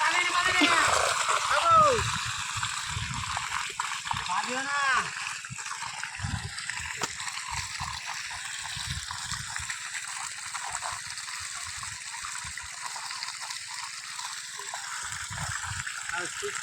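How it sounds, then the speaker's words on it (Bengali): Irrigation water gushes and splashes into a mustard field, a steady flowing slosh heard close by while voices talk over it. "কত জল চলে আসছে"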